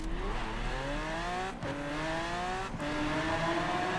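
Car in Forza Horizon 4 driving fast down a highway, engine revving up in rising whines with two quick gear-shift dips, loud and close throughout.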